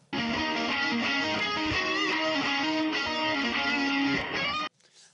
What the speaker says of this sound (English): Now if we want to isolate the guitar, we can click on this track and use the AI Music Remixer.